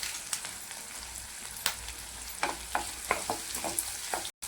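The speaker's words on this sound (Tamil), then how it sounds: "இப்போ ஒரு கொத்து கருவேப்பிலை போட்டுக்கலாம்." Curry leaves fry in a pan with onion, mustard seeds and chana dal for kothavarangai poriyal, giving a steady crackling sizzle with intermittent spatula scrapes and stirs, close and moderately loud.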